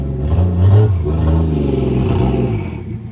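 A 1991 Toyota Cressida drift car with a 1JZ engine revs loudly and close by, the engine note rising and holding steadily for a few seconds before easing off, with no voices.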